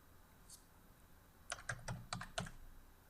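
A class number is typed on a computer keyboard: one light keystroke, a pause, then a quick burst of about six crisp taps, quiet and close with no one speaking.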